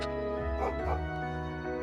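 A puppy in the video game The Legend of Heroes: Trails into Reverie gives a couple of short yipping barks over the game's soft background music.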